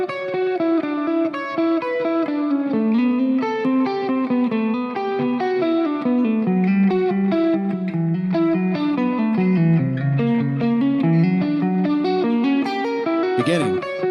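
Electric guitar with heavy distortion plays a string skipping exercise, fast single notes leaping between strings in a flowing melodic line over a backing track.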